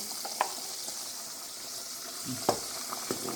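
Butter melting in a pan on a gas stove, giving a faint, steady sizzle with a few brief pops and crackles over a soft hiss.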